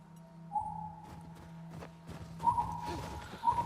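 Horse hooves clop at a slow, uneven walking pace in The Last of Us Part II, close and soft, set against a steady low ambient hum with a faint tonal whine, no voices present.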